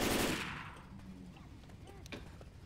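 Gunfire in the zombie shooter Left 4 Dead 2, a loud burst at the start that fades into a rattling tail of quieter shots and game effects over a few seconds.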